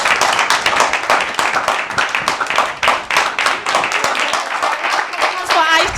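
Audience at the Miss Muslimah Ghana 2021 pageant applauds Aisha after her performance: dense, loud, sustained clapping fills the whole stretch, with a brief whistle or cheer rising near the end.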